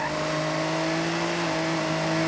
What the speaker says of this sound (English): extreme delivery truck coming through